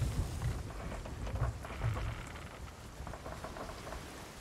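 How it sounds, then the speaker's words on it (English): Heavy rain pours steadily during a storm in the pirate sailing game Sea of Thieves, with low rumbling thunder and a lightning crash rolling through the downpour; no voices. "I got hit by lightning."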